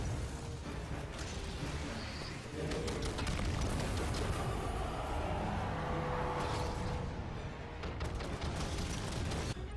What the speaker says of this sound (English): You're going to hold the trigger down, let it go. It's going to continually shoot more and more blasts.